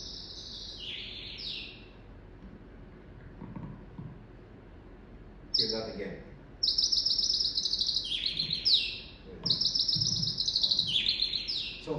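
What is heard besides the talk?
common European and Asian bird chirping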